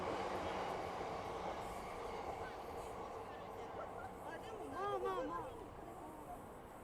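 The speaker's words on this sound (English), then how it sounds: "Train." A train rolls past at a distance in Ikebukuro, Tokyo, with a steady rumble and brief squealing of wheels midway, while someone talks over it.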